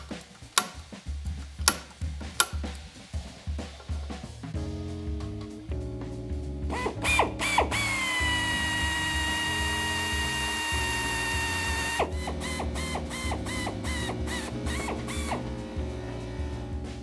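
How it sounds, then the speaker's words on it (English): A drill bores a 1/4 inch hole through a motorcycle handlebar, first in ticking clicks and short taps, then a sustained whining run, then more rapid clicking bursts close by. "and then we're going to drill our hole"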